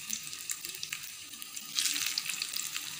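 Beaten rice (aval) vada sizzling in hot oil, a steady high crackle of frying that swells louder partway through, close by with no voices.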